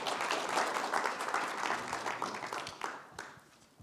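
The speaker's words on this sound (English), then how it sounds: "Give a round of applause for Thomas." Applause from an audience at a decentralised science conference, a dense, steady patter of many hands clapping that stays loud throughout before thinning slightly at the end, with no talk over it.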